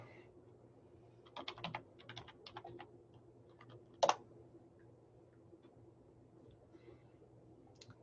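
Someone types on a computer keyboard in a quiet room, producing short bursts of soft, close key taps over a low background hum, with one sharper click partway through.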